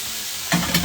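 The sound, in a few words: steak searing in a pan after being turned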